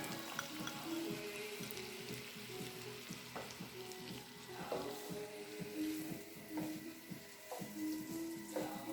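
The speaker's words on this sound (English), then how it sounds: "Okay, so here we are sauteing this. 3 stalks of celery." Chopped celery, three stalks cut up, sautés in a pan with a steady frying sizzle throughout, punctuated by soft clinks and stirring scrapes, close and moderately loud with no talking.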